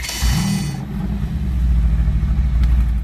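A car engine in the Roblox game Midnight Chasers turns over and settles into a deep, steady rumble with a throaty exhaust note from four exhaust tips, close and fairly loud, with no talking.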